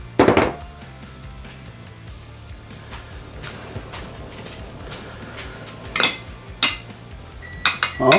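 Tomatoes go into a baking dish for feta pasta with several sharp clinks and clatters of dish and utensils, spaced out over a quiet kitchen background.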